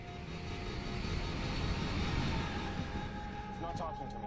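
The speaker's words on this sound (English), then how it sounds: "Pilots Lux and Dillard fight to level the aircraft, but the plane does not respond." Airliner engines roar as the plane dives in a crash, a steady rumbling drone at moderate level with a rising whine near the end, under narration.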